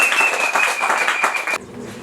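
A crowd claps and applauds a Vital'o FC club leader in a dense, steady burst of clapping that cuts off sharply near the end.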